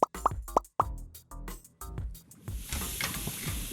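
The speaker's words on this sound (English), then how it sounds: "Dip a cooled strawberry in melted blue chocolate glaze." A cooled strawberry dipped into melted blue chocolate glaze: several soft wet plops and drips at the start, then quieter gloopy stirring and a thin sizzling hiss toward the end, close and alone.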